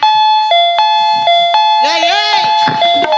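A house doorbell rings with a loud, close electronic chime that repeats several times in quick succession, and a voice then talks over its tones.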